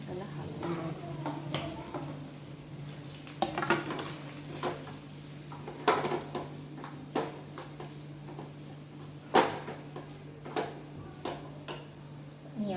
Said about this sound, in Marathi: आता घालणार आहे रत्नाळ तुपामध्ये. त्याला हलवून द्यायचं.